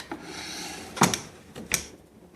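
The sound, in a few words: opening wooden dresser drawers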